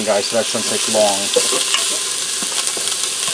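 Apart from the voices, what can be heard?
onion, ginger and garlic sauteing in a pressure cooker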